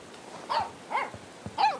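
A dog in the video game Life is Strange 2 lets out three short, sharp barks in quick succession, close and fairly loud against a quiet background.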